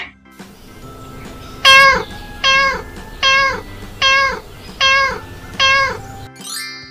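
A cat meows six times in a steady, evenly spaced series, loud and close, over a soft backing track in a children's phonics song for learning letters.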